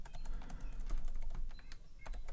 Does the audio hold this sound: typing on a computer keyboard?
yes